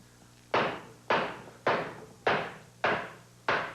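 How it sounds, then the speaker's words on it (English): Six heavy, evenly spaced blows land on tulip poplar wood being split by chopping. Each blow is a loud, close thud that rings out briefly, with no voices. "So this is tulip poplar, so it should be pretty easy to split."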